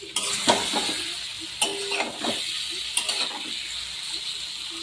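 Water added to a pan of spiced pomfret fish curry, with a soft bubbling sizzle and several close scrapes and clinks of a spoon stirring against the pot.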